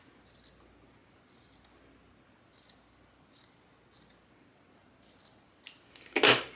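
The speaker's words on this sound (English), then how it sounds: "Now I can just trim off the edge" Scissors snip through the edge of T-shirt fabric at a shoulder seam, with a series of short, crisp cuts spaced about a second apart and a louder, closer snip at the end, all close by and with no voices.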